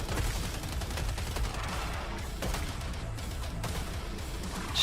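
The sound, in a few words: shotgun fire in a zombie video game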